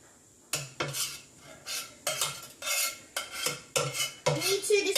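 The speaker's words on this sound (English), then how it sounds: "now go ahead and give that a stir" A spoon stirs meat and sauce together in a medium-sized bowl, giving a run of close scraping clinks and knocks against the bowl's sides at an uneven rhythm.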